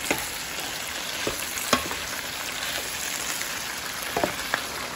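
Steady sizzle of binagoongan frying with shrimp paste in a pan, with occasional utensil scrapes as it is stirred, close and even throughout with no talking.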